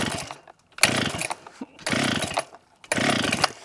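An abandoned Pro Saw chainsaw is pull-started: three quick rasping yanks of the recoil cord with the engine turning over, close and loud, separated by short silences.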